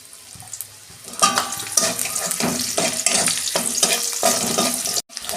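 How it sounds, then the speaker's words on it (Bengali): Onions sizzle steadily in hot oil in a pan while a spoon stirs them with rhythmic scraping strokes, close and fairly loud, with no talk over it. "পেঁয়াজটা আমি একটু লাল লাল করে ভেজে নেব।"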